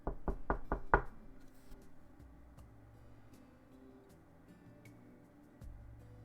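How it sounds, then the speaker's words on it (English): Five quick knocks on a door, sharp and evenly spaced in a rapid burst, followed by quiet room tone. "You hear a knock on your door."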